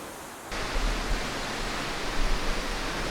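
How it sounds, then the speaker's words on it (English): Steady, dense rushing water from a waterfall at a Robin Hood filming location pours without a break, close and loud after a quieter first half-second. "And it's a beautiful waterfall."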